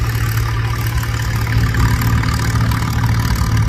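An old Cub tractor plowing a deep furrow at a plow day, its engine chugging loud and close in a steady low, rough drone with no talking over it.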